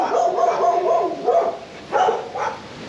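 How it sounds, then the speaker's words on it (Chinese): A dog barks repeatedly beside houses next to a small temple in Bengang, with several loud, close barks in uneven bursts and a whining edge between them. "所以狗狗一直在狂吠。"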